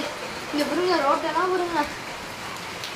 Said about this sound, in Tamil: நேற்று சாயங்காலம் 5 மணிலேருந்து ஃபுல்லாக மழை பெய்யுதுங்க